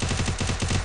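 Rapid automatic gunfire in a video game firefight, a loud, steady burst of evenly spaced shots lasting under a second, with no talk over it.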